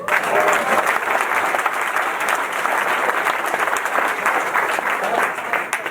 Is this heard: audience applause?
yes